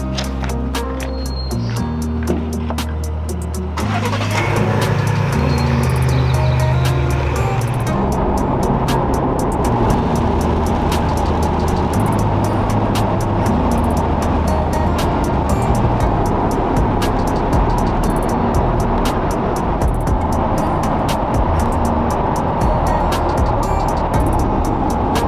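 A Ford Bronco cruises along the road for a long stretch, with a steady engine drone and broad road and wind rumble that lift after a few seconds and then hold constant.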